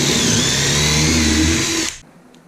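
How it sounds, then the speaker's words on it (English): A power drill boring pocket holes in wood for a raised skoolie bathroom floor, running steadily with a whining motor tone for about two seconds before stopping abruptly. "I'm drilling some pocket holes now."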